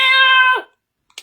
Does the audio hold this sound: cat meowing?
yes